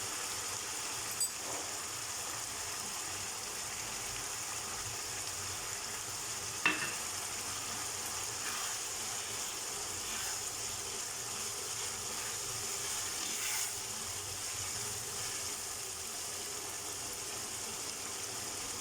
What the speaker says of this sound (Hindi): ये हम मिल्क पैक का दही इसमें डाल रहे हैं